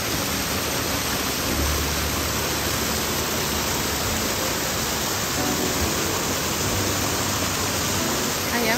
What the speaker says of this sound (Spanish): Tienen una alberca con burbujas, estas de presión.